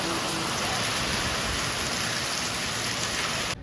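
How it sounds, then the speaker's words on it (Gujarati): Heavy rain pours steadily in a village setting, a dense, loud, unbroken hiss of downpour filling the whole clip without pause. "હા બહુ વરસાદ છે."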